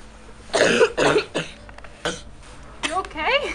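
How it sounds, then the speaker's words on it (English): A few harsh coughs in quick succession, close by, followed by breathy vocal sounds and a squeaky high-pitched voice. "Just cough."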